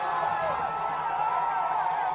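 A stadium crowd roars in a continuous, loud wash of cheering and whooping as Kenya wins the 2023 Rugby Africa Sevens Cup Final against South Africa and fans stream onto the field.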